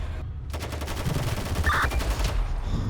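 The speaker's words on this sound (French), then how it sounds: "On me tire dessus." Rapid gunfire in a GTA roleplay shootout, a dense run of quick close shots layered over engine and ambient game noise with a brief sharp ping partway through.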